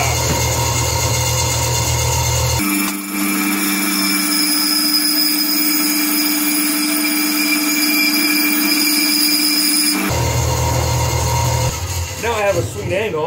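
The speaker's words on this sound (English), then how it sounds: "Well, of course, the switch for the bandsaw would be broken, so this is how we turn it on." A bandsaw with a broken switch runs while cutting wood, giving a loud, steady motor whine and hum. Its tone shifts partway through the run as the cut changes, then returns to the earlier sound near the end.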